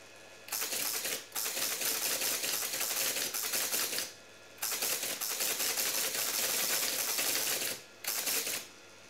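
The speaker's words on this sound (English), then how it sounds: "It literally feeds paper through like that." A Teletype ASR33 paper tape punch feeds tape in loud, close, rapid clattering mechanical bursts, three runs of dense chattering separated by short pauses, with no voices.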